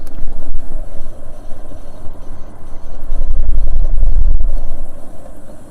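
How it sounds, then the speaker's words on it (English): A low, rumbling drone from a moving 2005 Ford Falcon BA XR6 Turbo ute with a faulty front wheel bearing, with a droning hum that swells louder midway amid road and wind noise. "is the sound of a faulty wheel bearing."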